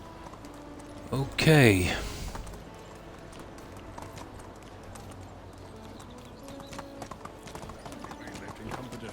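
Horse hooves clip-clopping in the medieval life-sim game Medieval Dynasty, a steady background trot running under a short spoken word and a brief loud burst near the start.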